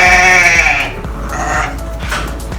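Newborn goats and lambs bleating: a loud, wavering bleat up close, followed by fainter calls and soft shuffling noises.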